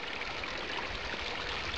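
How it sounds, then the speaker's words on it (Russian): Water runs from a mineral spring at a rest spot with benches, a steady, even rush of flowing water at close range with no talking. "Вот он, минеральный источник."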